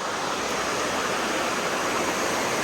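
A cold creek runs steadily, a dense even rush of flowing water close by, constant and loud throughout with no voices.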